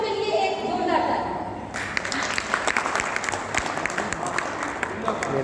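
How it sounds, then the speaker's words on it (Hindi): Audience applause at a Hindi poetry gathering in Jharkhand, a sustained crackle of many hands clapping that starts after a voice and carries on steadily to the end, fairly close and moderately loud. "पहले मातृशक्तियों के लिए एक जोरदार ताली।"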